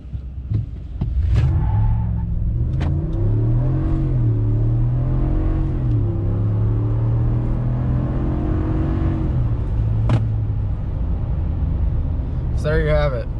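Ram 1500 Rebel pickup truck accelerating hard from a standstill to 60 mph, engine note climbing through rising gear pulls with shift dips, loud and steady from inside the cab, with a voice speaking over it.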